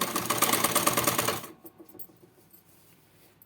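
A sewing machine runs a straight seam on a salwar hem in a close, rapid stitching burst for about a second and a half, then stops, leaving quiet handling clicks and rustles.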